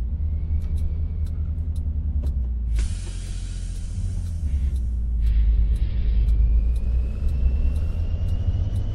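A Peterbilt 387 truck drives in Euro Truck Simulator 2, a steady low engine drone and road rumble with a brief hissing burst partway through, no talking.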